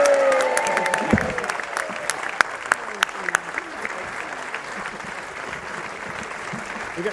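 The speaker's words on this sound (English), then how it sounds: "Now, a round of applause for Mr. and Mrs. Rolls as they leave." A crowd applauds a departing married couple at the Great Dunmow Flitch Trials, with sustained clapping, a few sharp close claps and some voices mixed in.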